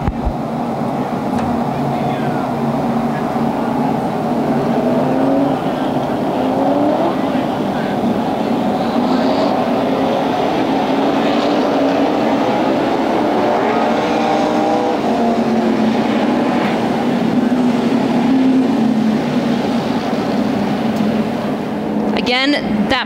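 Late model sportsman stock cars race at O'Reilly Raceway Park in Indianapolis during a CRA feature, a steady, loud roar of several engines droning continuously throughout, with commentary running over it.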